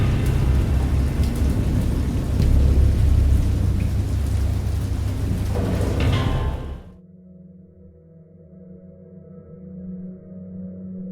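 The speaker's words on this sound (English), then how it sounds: "I know that I heard bells of thunder and other tones which nature utters only in her wildest moods" Thunderstorm ambience from the video game Dagon: steady heavy rain with deep rumbling thunder for several seconds, then an abrupt drop to a quiet low drone and faint tones.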